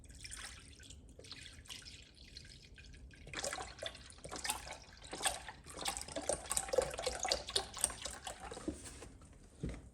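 Half a litre of milk is poured into a saucepan, a soft liquid splashing and trickling that starts faint and grows into a fuller, uneven gurgling pour, close by.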